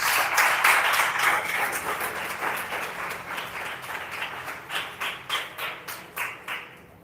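A church congregation at a family worship service applauds, broad clapping at first that settles into slower, distinct rhythmic claps toward the end.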